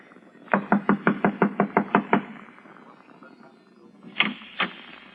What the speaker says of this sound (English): I'll knock on the door and try it again.